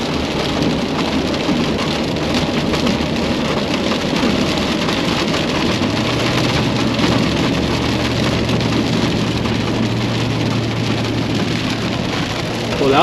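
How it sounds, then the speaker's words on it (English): Hail and rain pound a car's body in a dense, steady drumming during a drive, loud and continuous with road noise and a low engine hum underneath. "All that hail."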